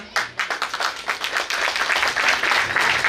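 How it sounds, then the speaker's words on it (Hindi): At a school annual day, an audience claps in loud bursts that start ragged and uneven, then settle into a continuous, lively round of applause from many hands nearby. "जोरदार तालियां"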